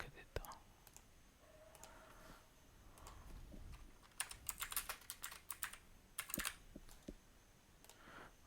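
Keyboard typing on a computer in a quiet room, irregular bursts of soft key clicks with a few sharper taps, faint and close, with light breathy background and no talk over it.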